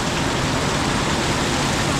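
Heavy monsoon rain during a storm with lightning makes a thick, even wash of noise, loud and close, steady over two seconds with no break.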